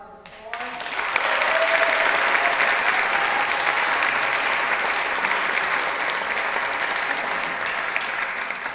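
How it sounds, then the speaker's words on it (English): Audience applause at a state poetry recitation final fills the hall, rising quickly into steady, sustained clapping that carries on evenly from start to finish. "So let's just give them a round of applause."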